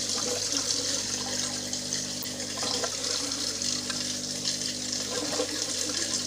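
Water drains fast from an aquaponics tank, a steady broadband rush of flowing liquid, close and loud, with a low hum underneath throughout.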